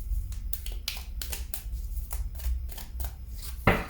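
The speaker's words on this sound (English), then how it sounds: "as I'm shuffling the cards" Tarot cards being shuffled by hand: a rapid series of crisp riffling bursts and slaps repeats at a fairly even rhythm, close and dry, ending with a sharper snap, with no voices.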